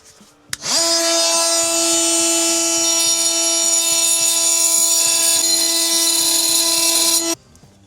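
An oscillating multi-tool cuts a brass compression olive off a pipe during a hot water valve replacement, a single steady high-pitched whine holding for about seven seconds before stopping abruptly, loud and close.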